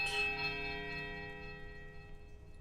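Bells toll in the Pillars of Eternity video game among church ruins, one deep resonant strike with many sustained ringing overtones that slowly fade over a low ambient hum.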